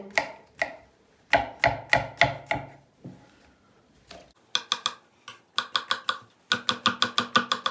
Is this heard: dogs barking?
no